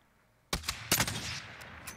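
In the video game Warzone, after a brief hush, sharp gunshots crack out in quick succession, loud and punchy, followed by a lingering rumble and a few fainter pops.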